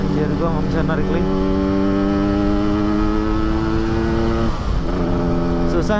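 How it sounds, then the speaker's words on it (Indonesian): Yamaha RX-King two-stroke motorcycle climbing a hill on a touring ride in Central Aceh, its engine droning loud and close with a steady buzzing pitch that rises and dips briefly as it labors, with a rider speaking over it. "Susahnya dua tak tuh kalau nggak ngegas dari awal pas tanjakan, dia lemah cuy."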